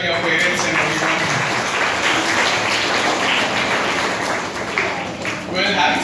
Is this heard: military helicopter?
no